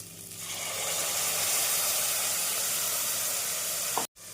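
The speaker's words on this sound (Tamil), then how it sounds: "அரைத்த விழுது சேர்த்து 1 நிமிடம் நன்றாக வதக்க வேண்டும்" Ground coriander paste sautéing in a pan with onion, ginger and garlic paste for coriander rice, a steady close hiss and sizzle throughout that cuts off abruptly near the end.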